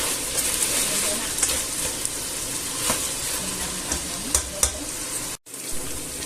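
Pork and chorizo browning in a pan for a stew, a constant dense sizzle with intermittent scrapes and knocks of a stirring utensil, close and loud, cutting out abruptly near the end before resuming.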